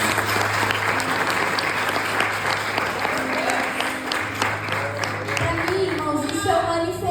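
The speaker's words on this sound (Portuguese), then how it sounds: "Aplaude o Senhor nessa noite" A church congregation applauds during an evening worship service. The clapping is loud and continuous, over a steady low electrical hum, and voices rise near the end.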